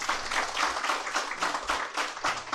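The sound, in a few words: audience applause for the guest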